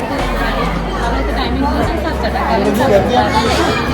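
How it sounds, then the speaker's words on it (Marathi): Crowd chatter at a busy Shivaji Maharaj temple in Maradepada, Bhiwandi, a dense babble of many voices close around, with nearby talking over the steady hubbub. "गर्दी तर खूप आहे"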